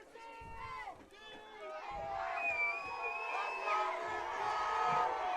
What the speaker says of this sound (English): Crowd getting into it again.